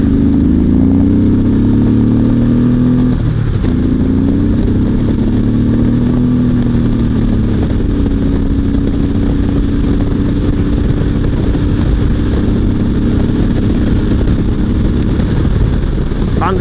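A motorcycle fitted with a car tyre accelerates hard, its loud engine droning close up and rising in pitch through the gears, with wind roar throughout.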